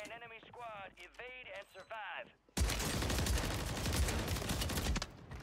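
Dense, continuous burst of gunfire from a Warzone 3 match on Rebirth Island, loud and close, running for about three seconds after a stretch of voiced talk.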